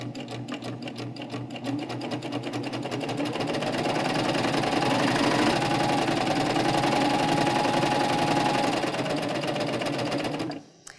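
Sewing machine stitching along a drawstring backpack strap, running steadily and loud for about ten seconds, slowing over the seams before stopping abruptly near the end.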